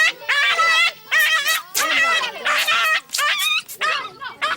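Several dogs at a busy dog clinic bark, yip and whimper in a continuous loud chorus of overlapping high-pitched calls, close by, with brief gaps between bursts.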